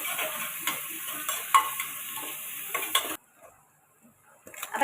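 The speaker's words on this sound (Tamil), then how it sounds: "நல்லா வதக்கி விட்டுக்கலாம்." Onions and curry leaves sauté in a hot pan, a steady sizzle broken by repeated scraping stirs, close and fairly loud, then dropping to near silence before the sizzle returns at the end.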